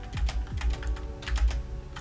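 Computer keyboard keys tapped in quick irregular bursts during PC gaming, a few clustered clicks then pauses, fairly close and clear with a low steady background hum and no talking.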